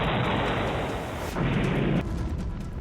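Explosion in Russia–Ukraine war footage: a continuous, dense roar of blast rumble and debris noise at moderate level, shifting in texture midway, with no speech.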